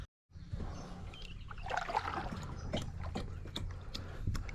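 A crayfish trap splashes into shallow swamp water beside a kayak in the remote outback, followed by gentle sloshing and dribbling water with a few sharp clicks, close by and steady with no talk.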